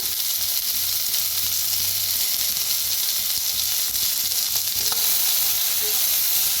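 Eggplant roasts in oil with salt in a pan, sending up a loud, continuous close sizzle with faint occasional stirring clicks and no talk.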